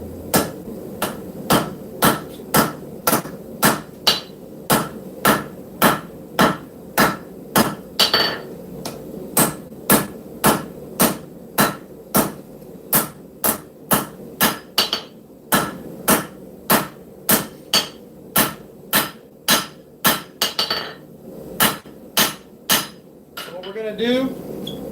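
A hammer beats hot scrap steel on an anvil while forging a knife, delivering a long run of loud, sharp, evenly paced metallic strikes with brief pauses between bursts.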